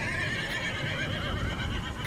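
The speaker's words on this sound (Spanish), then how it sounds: "se volvieron a escuchar otro relinchar" A horse whinnies in a long, wavering neigh, fairly close and clear against a low background rumble.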